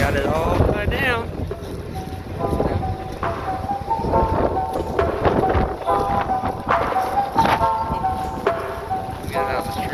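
Gusty outdoor wind buffets the microphone with a low rumble while people move a small Ercoupe aircraft and talk over it throughout.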